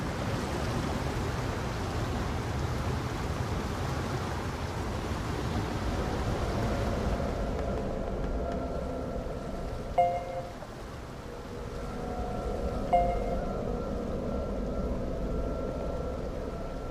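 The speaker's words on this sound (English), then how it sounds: "The only sound is the rain." Steady rain in the NieR Re[in]carnation video game, a dense, constant hiss that softens partway through, with a couple of faint tonal chimes over the wash.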